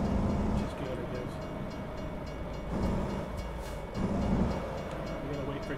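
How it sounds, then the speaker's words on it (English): Train rolling past a waiting truck in the American Truck Simulator game, a steady low rumble of wagons with rhythmic surges as cars go by, fairly close and continuous, no talk over it. "We gotta wait for a train."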